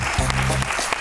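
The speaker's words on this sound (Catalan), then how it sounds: "Gràcies per aquests aplaudiments" A studio audience applauding, a dense patter of clapping heard close, with a voice briefly speaking over it partway through.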